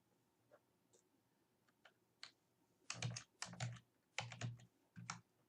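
Typing on a computer keyboard: a few scattered soft clicks, then several close, loud clusters of rapid keystrokes in the second half, in a quiet room.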